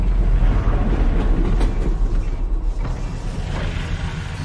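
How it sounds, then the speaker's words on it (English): Rumbling, creaking train in the Half-Life: Alyx video game jamming and grinding to a halt, a heavy low mechanical drone with scraping metallic creaks fading over a few seconds. "Did the train stop? It stopped, didn't it?"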